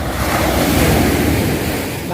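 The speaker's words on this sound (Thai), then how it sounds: "เสียงคลื่นกระทบฝั่งค่ะ คลื่นลูกแล้วลูกแล้วก็ถาโถมเข้ามาที่ชายฝั่งนะคะ" Sea waves crash steadily onto the shore at Bang Saray beach in Sattahip, Chonburi, a loud, continuous wash mixed with gusty wind noise.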